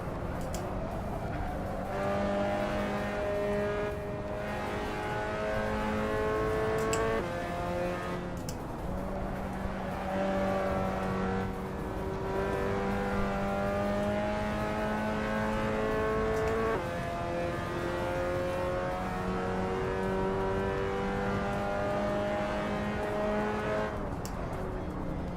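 An LMP3 race car engine in Assetto Corsa whines continuously, its pitch climbing through repeated gear shifts and dropping on braking, loud and close with no talking.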